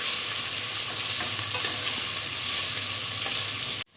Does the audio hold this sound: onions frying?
yes